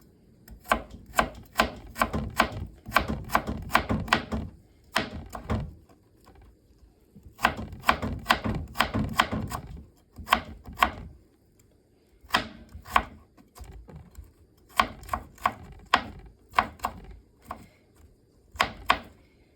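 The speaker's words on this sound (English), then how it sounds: "Slice it into thin slices and slice it evenly" Knife slicing carrot into thin, even slices for spring rolls on a cutting board, rapid bursts of crisp sharp chops in quick rhythmic runs separated by short pauses, close and clear.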